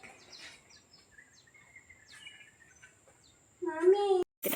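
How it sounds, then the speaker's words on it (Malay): Thin, sparse bird chirps and whistles sound at a distance on a quiet village morning by a river, followed by a brief loud voice near the end. "Ada bunyi burung tadi."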